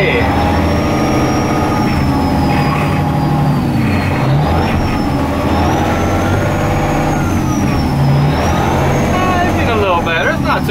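A Volvo tow truck's engine revs steadily and loudly while pulling a vehicle straight back in reverse, a continuous close rumble with rising and falling pitch throughout and a hiss near the end.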